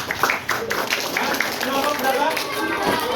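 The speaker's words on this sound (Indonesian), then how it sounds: "Kasih tepuk tangan." Sixth-grade classroom of pupils giving a short burst of clapping, brisk and close, mixed with children's voices talking over it.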